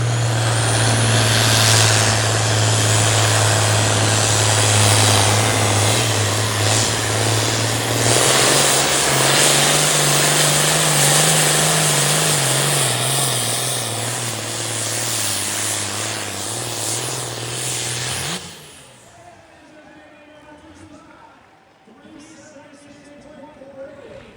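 An International tractor at a Cass County truck and tractor pull roars under full load for nearly twenty seconds, its pitch rising and wavering, then cuts off abruptly, leaving a quieter background with someone talking over a PA.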